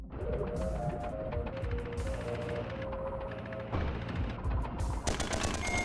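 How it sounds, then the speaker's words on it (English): Rapid automatic gunfire in a roguelite video game, aimed at the player, loud repeated bursts of shots with short gaps, joined by sharper volleys near the end. "Oh, you're shooting at me."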